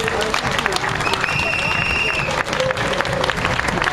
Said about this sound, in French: Ça mérite pour vraiment des applaudissements s'il vous plaît